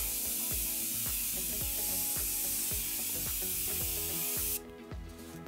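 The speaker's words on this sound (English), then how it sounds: "And we're going to turn it around and spray." A makeup remover spray bottle gives a continuous hissing spray that runs steadily for about four and a half seconds, then cuts off, with a faint rhythmic background underneath.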